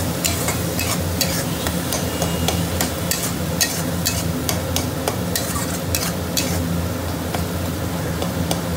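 Crab fries with spices in a pan, a loud, continuous sizzle over rapid, repeated scraping and clattering of a spoon against the metal as it is stirred.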